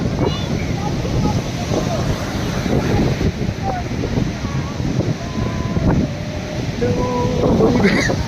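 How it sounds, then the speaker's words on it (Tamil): High-tide waves wash in at Porthmeor Beach in St Ives, Cornwall. Steady surf and wind rush fill the whole stretch while a person talks over it. "ஹை டைட்ஸ் ஆகிட்டுருக்கு. தண்ணி வந்து உள்ளே வந்துகிட்டே இருக்குது"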